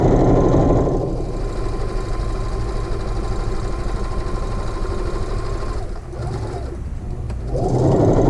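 A sewing machine runs steadily, stitching half-inch practice stitches on a seven-inch muslin square, a loud close motor whir that dips briefly near the end before resuming.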